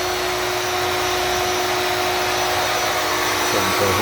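A Maslow CNC router withdraws its bit while cutting an arcade cabinet template, giving a loud, steady whirring drone with a sustained hum, running without pause and with no talk.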